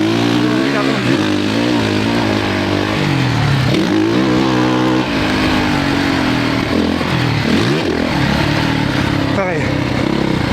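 A 450 motorcycle engine revs and pulls hard while riding through sand, its loud, steady buzzing drone rising and falling with throttle changes and gear shifts, close and continuous for the whole stretch.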